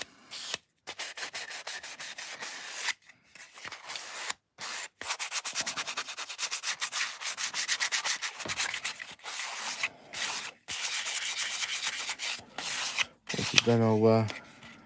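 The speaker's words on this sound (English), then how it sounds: "I've gone over that with the sander." Power sander working over the plastic surface of an Airfix Concorde model kit, a steady close rasping rub in long bursts with brief pauses, ending with a short whirring tone.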